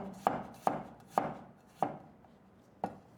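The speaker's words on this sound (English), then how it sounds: "Slice a few pieces and keep it aside and chop the remaining." Fresh peeled garlic chopped with a knife on a board, five sharp, fairly close knocks at an uneven rhythm with brief pauses, no talking.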